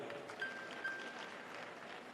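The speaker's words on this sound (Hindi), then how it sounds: "मेरी माताओं के लिए ताली बजा दो भाई।" Audience clapping at a Shiv Mahapuran religious discourse in Bhilwara, a steady, dense wash of many hands clapping together throughout, moderately loud, without speech.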